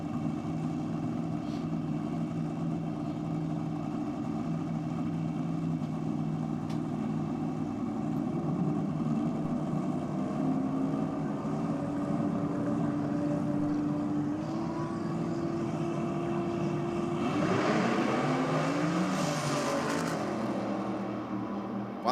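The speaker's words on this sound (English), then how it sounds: "Warming up for drag challenge. Supercharged Outlaws qualifying session about to begin." Supercharged Outlaws drag racing cars warming up at Sydney Dragway before a qualifying session, a loud, steady engine drone that holds its pitch, then swells and climbs in a brief rev near the end.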